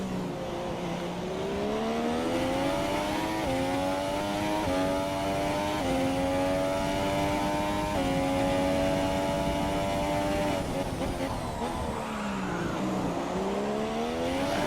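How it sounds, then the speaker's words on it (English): A Formula 1 race car engine in a racing video game roars steadily at high revs, pitch climbing through gear shifts, then dropping and rising again as it brakes and accelerates. "Just listen to the car sounds on this lap."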